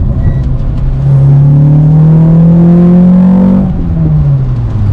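A K20-engine-swapped Honda Jazz (Fit) accelerates steadily, its loud rising drone climbing in pitch before easing off near the end, with no talking.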